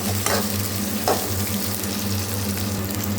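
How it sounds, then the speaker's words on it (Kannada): Chopped beans and carrots with green chilies sizzling in a pan while making onion-free upma, a steady close frying hiss with a couple of brief stirring scrapes and no talk. "ಹಸಿಮೆಣಸು ಹಾಕಿದ ನಂತರ ನಾನು ಇದಕ್ಕೆ ಹೆಚ್ಚಿಟ್ಕೊಂಡಿರೋಂಥ ಬೀನ್ಸ್ ಮತ್ತು ಕ್ಯಾರೆಟ್ ಹಾಕ್ತಿದ್ದೀನಿ. ಇದಕ್ಕೆ ಒಂದೇ ಸತಿ ಹಾಕ್ತಿದ್ದೀನಿ. ಇದನ್ನು ಚೆನ್ನಾಗಿ ಫ್ರೈ ಮಾಡ್ಕೊಳ್ಳಿ."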